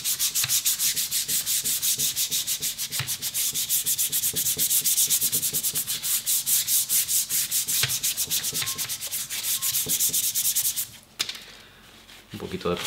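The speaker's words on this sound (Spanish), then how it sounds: "Con un lijado ligero lo dejamos todo nuevo y en condiciones." Light sanding with sandpaper across a four-sided leather strop treated with dissolved compound pastes makes quick, even, rhythmic rasping strokes, close and continuous, which stop abruptly near the end.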